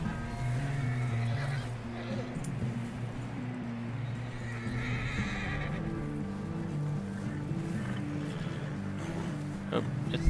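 Horse neighing and whinnying with clip-clopping hooves in the Red Dead Redemption 2 video game, heard steadily over a busy game soundscape with a low droning background throughout.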